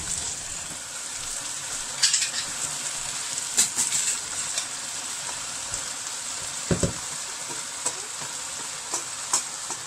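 Aubergine sizzles steadily in a frying pan over medium heat for pisto, with a constant hiss broken by a few louder crackles and stirring scrapes, close and alone with no talk.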